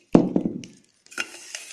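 Sugar and water are stirred together in a metal pot to make syrup, giving a few scraping clinks of the spoon against the pot, close and alone, then a brief pause and more stirring.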